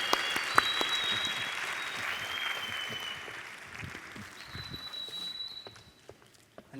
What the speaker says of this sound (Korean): 함성과 박수로 뜨겁게.